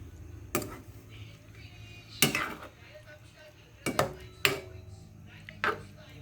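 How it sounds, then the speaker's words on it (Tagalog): A utensil clinks and scrapes against a pot while ginataang pusit, squid simmering in coconut milk, is stirred; a handful of scattered, distinct knocks sit over a quiet kitchen background. "Halu-haluin lang natin."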